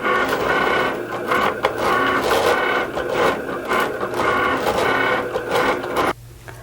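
A Cricut cutting machine working through material in several passes, giving a steady, close mechanical whirring and buzzing with small clicks that runs for about six seconds and then stops.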